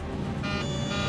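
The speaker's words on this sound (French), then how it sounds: "L'alarme de configuration est tellement forte qu'on n'entend presque plus les voix des pilotes" A cockpit takeoff configuration warning alarm sounds during an aircraft's takeoff roll. Its steady, shrill electronic tone begins partway through and holds over a dense rumble of engine and cabin noise.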